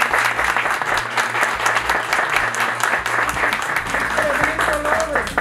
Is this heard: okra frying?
no